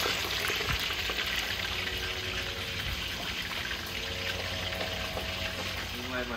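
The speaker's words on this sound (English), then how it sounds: "Meanwhile, my fish is frying." Snapper frying in a pan for a curry, a steady dense sizzle and crackle running throughout at moderate level, close to the pan, with faint background clatter.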